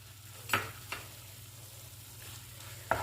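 A beaten egg is added to a pan with butter and garlic, giving a soft, low sizzle under a faint hum, broken by a few sharp scraping stirs of a utensil.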